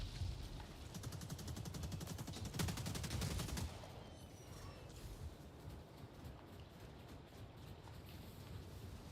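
Rapid gunfire from a video game gun, a dense, loud burst of shots in the opening seconds that fades into a steady low rumble of game ambience.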